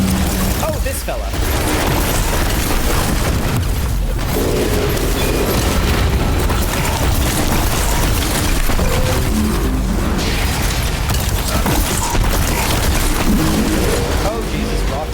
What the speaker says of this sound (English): Oh, Jesus, rockets.